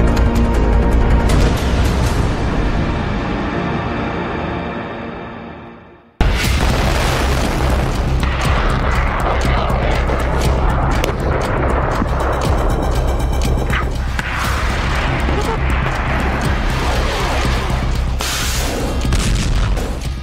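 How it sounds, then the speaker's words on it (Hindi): A large grenade explosion from a Ukrainian drone strike on a Russian boat, a loud booming blast that fades, then a second violent burst followed by sustained roaring, crackling rumble. "ड्रोन करीब आकर रशियन बोट पर ग्रेनेड से हमला करता है। एक बड़ा धमाका होता है"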